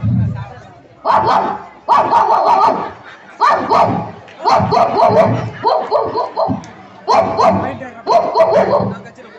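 A person vocally imitates a dog, giving loud repeated bark-like bursts in a steady rhythm, close and alone, at a Pongal celebration.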